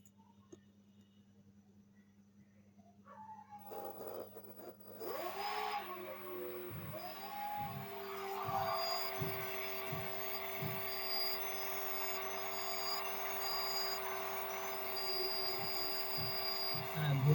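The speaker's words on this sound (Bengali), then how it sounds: "দুইটা মোটরে ঘুরছে।" Two motors on a radio-controlled model airplane under repair spin up as the throttle rises: a faint click, then a rising electric whine that settles into a sustained tonal hum with harmonics, punctuated by regular low thumps.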